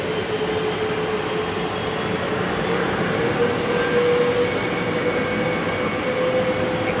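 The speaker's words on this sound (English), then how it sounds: "We're going to hear those G90 spooling up" Boeing 777 GE90 jet engines spool up at Heathrow Airport, a steady, broad roar with a rising tonal whine, continuous and fairly loud at a distance.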